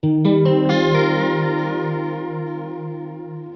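A single E 6/9 guitar chord, voiced in fourths, strummed once and left to ring, its rich layered tone slowly fading with a shimmering, chorus-like effect.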